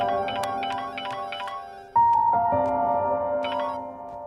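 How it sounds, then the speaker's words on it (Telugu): A phone ringing indoors in a Telugu film scene, an electronic melodic ringtone playing a repeating pattern of tones, then a single sustained beep and further tones, clear and alone without talk. "ఫోన్ రింగ్ అవుతుంది చూడవే."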